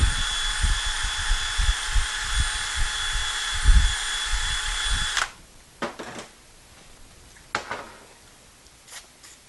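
A power drill spins a hone inside a 700R4 transmission bore, a loud steady high-pitched whine with pulsing low chatter for about five seconds, then stops, leaving faint workshop clicks and handling noises.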